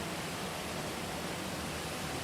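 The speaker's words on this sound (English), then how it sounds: "I can barely hear you from the noise of the water" Loud, steady rush of water pouring from the Sacred Spring at the Roman Baths in Bath, a dense, unbroken roar filling the space with no voices.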